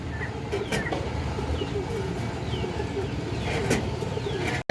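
Healthy pigeons, kept as two pairs with their chicks, coo in soft repeated calls close by, mixed with other bird chirps over a steady background hum that sounds like passing traffic.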